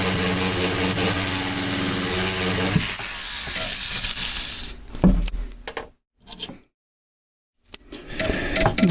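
A Kratex rubber polishing wheel on a rotary tool grinds steadily against a carving-wax workpiece, a loud continuous whir that breaks into short bursts and stops, then starts up again.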